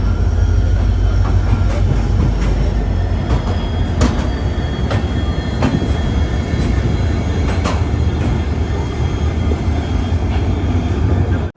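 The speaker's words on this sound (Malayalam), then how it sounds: "10:30 ട്രെയിൻ ഇതാ ഗുവാഹത്തി റെയിൽവേ സ്റ്റേഷനിലേക്ക് എത്തിക്കൊണ്ടിരിക്കുകയാണ്." The Vivek Express pulls into platform 4 at Guwahati railway station with a loud, continuous rumble of wheels and carriages and periodic rail clacks throughout, no voices.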